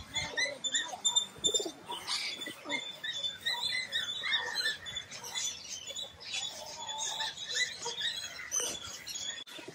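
Pigeons in an ornamental cage set among plants coo and chirp repeatedly at close range, a busy overlapping chorus of soft calls with no talk.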